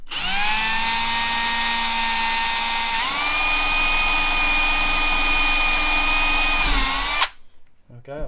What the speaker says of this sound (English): just let the drill work itself. Don't push it through, let it work its own way through there.